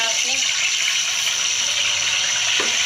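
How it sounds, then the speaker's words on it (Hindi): Water pours into a pan for sugar syrup in a steady, hissing gush throughout, with a voice speaking faintly near the end. "इतना से हम पानी डालेंगे इसमें, चाशनी का रेडी करेंगे।"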